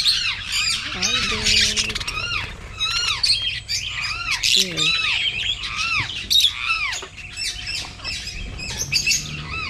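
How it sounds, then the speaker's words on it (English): Birds at a farm in Panglao, Bohol squawk and chirp in dense, overlapping bursts close by, with a few brief spoken words mixed in. "I don't know what kind of bird this one."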